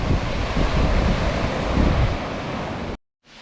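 Sea waves wash onto the shore at Rhodes as a steady broadband rush mixed with wind buffeting the microphone. It runs for about three seconds, then cuts off abruptly.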